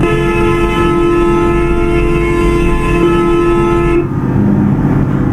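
A train rolls past with a long sustained horn blast during a Bangladesh-map bus driving video game, the steady tone loud and close before cutting off, then a brief second toot over the continuous rumble.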